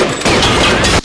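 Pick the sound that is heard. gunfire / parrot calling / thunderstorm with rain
gunfire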